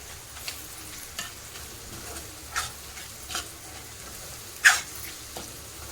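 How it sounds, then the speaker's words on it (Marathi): Spices for a potato curry sauté in hot oil, giving a soft, steady sizzle under repeated scraping strokes of a spoon against the pan, with one louder clatter near the end. "चांगलं तेल सुटेपर्यंत आपल्याला परतून घ्यायचं आहे"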